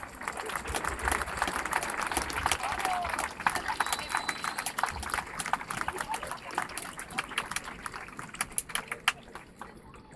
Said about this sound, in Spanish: un fuerte aplauso a todos vosotros por estar con nosotros